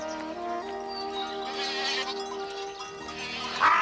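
Goats bleat in drawn-out, wavering cries in a cartoon, a few overlapping calls nearby, with a sharper, louder bleat rising at the end.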